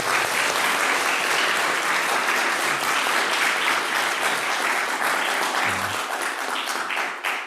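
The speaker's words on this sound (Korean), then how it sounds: "박수 한번 할까요?" A Korean church congregation at Sunday worship claps for newly chosen youth group officers, a loud, dense and steady round of applause that carries on for several seconds before stopping abruptly.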